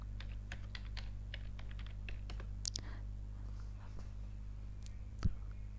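Clicks of someone typing a customer name on a computer keyboard in accounting software, a steady run of light keystrokes through the first half, then a few scattered taps over a constant low electrical hum.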